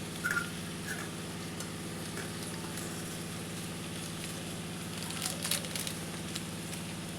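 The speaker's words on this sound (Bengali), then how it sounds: "এই চাউ মশলাটা দিয়ে ভালো করে আমি একটু মিলিয়ে নেব।" Chow masala being stirred into vegetable chow mein frying in a pan, a steady soft sizzle with light scraping and crackle throughout, no talking.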